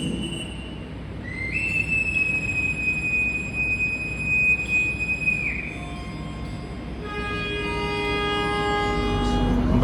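KA Logawa economy train pulling out of Madiun station, with long, loud, high-pitched wheel squeals sustained over the steady rumble of the moving train.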